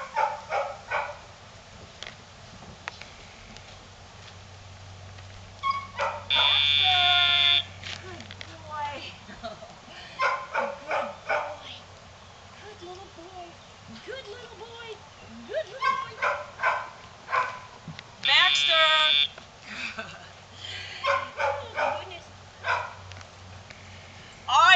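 A small dog barks and yips in scattered bursts, close and moderately loud, with a person talking softly around the barks throughout.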